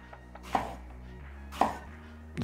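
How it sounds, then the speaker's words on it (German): Vegetables being chopped small with a knife on a board for teppanyaki-style fried vegetables: two distinct, fairly sharp chops about a second apart over a quiet background hum, close, with no voices. "So, jetzt habe ich die schön klein geschnitten"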